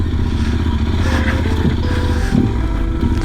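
A heavily loaded motorcycle rolls over very hard, rough dirt ground in rural Brazil, its engine droning steadily with clattering, jolting suspension knocks throughout, close and loud with no talk.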